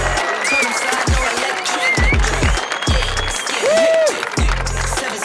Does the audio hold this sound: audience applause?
yes